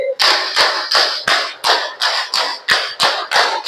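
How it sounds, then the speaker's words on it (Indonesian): A class clapping together in a steady rhythm: about ten sharp group claps, evenly spaced and close, each a loud burst with a short decay, and no talking between them. "Yuk, tepuk tangan semuanya."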